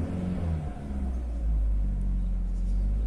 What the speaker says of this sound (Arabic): انا هدوس بنزين وهقول لكم انا دلوقتي دوست